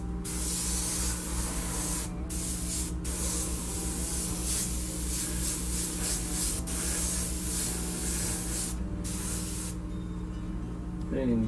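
An airbrush sprays paint onto an RC car body in a loud, continuous close-up hiss that runs almost without break, cut by a few brief pauses, with a voice speaking faintly underneath.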